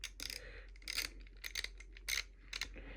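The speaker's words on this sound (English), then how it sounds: "I'm just going to use a torque wrench and then 2 screws, slot them in." A torque wrench tightens two screws on a DIY powerbank built from vape parts, giving a run of close, sharp metallic clicks and ratcheting ticks in short bursts over a low hum.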